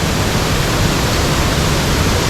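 A close, loud waterfall roars in a steady, dense wash of rushing water at a jungle cave site, filling the whole moment with no voices.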